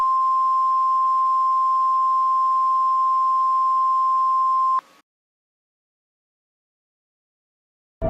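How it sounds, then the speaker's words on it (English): A NOAA weather alert tone sounds as a loud, steady pure beep lasting about five seconds, then cuts off into silence before a short burst of sound at the very end. "This is just a NOAA alert."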